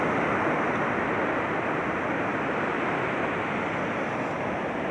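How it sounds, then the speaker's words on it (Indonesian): Big surf breaking at a beach near Nusakambangan, Cilacap, a steady, loud, dense wash of crashing waves and roaring water with wind noise and no voices. "Jangan di sini ombak itu termasuk ombak gede ya."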